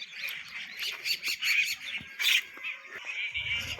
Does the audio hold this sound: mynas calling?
yes